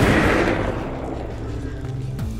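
A gunshot from the zombie survival video game Dead Age bursts out loud at the start and trails into a long rumbling decay, with a second faint crack near the end.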